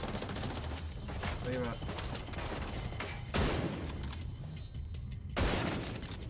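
Magnum gunfire rings out in The Division 2, several sharp reports bursting amid a noisy firefight, the loudest around the middle and near the end, with a player briefly speaking over the shooting.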